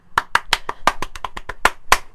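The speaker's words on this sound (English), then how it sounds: "I applaud you." A single person claps hands about ten times in a quick, slightly uneven rhythm, close and crisp, with no other sounds.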